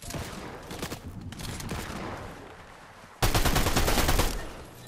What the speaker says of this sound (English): They're outside shooting.